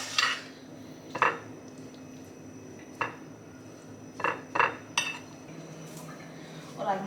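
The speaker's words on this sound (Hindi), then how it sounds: "Let's mix it. इसको करते हैं अच्छे से मिक्स।" Spoon scraping and clinking against a pan while taco filling is stirred with salt, black pepper, oregano and chili powder; a handful of sharp, separate knocks spaced across the clip over quiet room background, with no talking.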